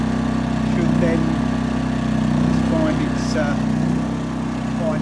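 Hyundai HY2000si petrol generator running steadily just after start-up with the choke out, a constant close engine drone with low harmonic hum throughout, while a person talks over it.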